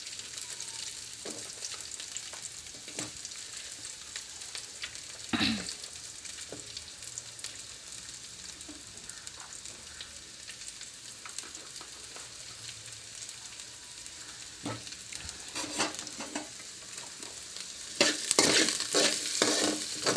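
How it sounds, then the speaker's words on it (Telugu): Tomatoes frying in a pan for a palak paneer curry, a steady soft sizzle running throughout, broken by occasional scraping stirs and a louder burst of crackling near the end; no voices. "మళ్ళీ టమాటా ఫ్రై చేసేసుకోవాలి"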